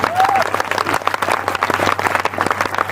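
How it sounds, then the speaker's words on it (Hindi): A live audience claps loudly and continuously at a comedy show in Fatehpur, Uttar Pradesh, with a dense wash of applause filling the whole stretch. "एक बार अपने देश के लिए जोरदार ताली होनी चाहिए"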